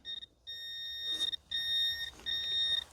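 A metal detector sweeping over soil gives high, steady electronic tones in several sustained bursts of varying length with brief gaps, fairly faint and alone.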